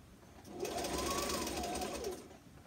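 A sewing machine stitches a fabric face mask in one steady run of rapid, whirring stitches at close range. It starts softly, holds an even hum, then slows and stops near the end.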